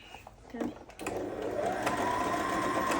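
Sewing machine stitching a sleeveless pleated short gown, running steadily and fairly loud after a brief pause, with a short spoken word near the start.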